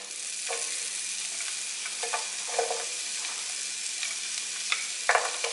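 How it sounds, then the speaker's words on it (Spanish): Onion and green onion sautéing in oil, a steady sizzle broken by repeated stirring and scraping strokes in the pan, close and clear, with no talking. "vamos a agregar la cebolla primero y el cebollín"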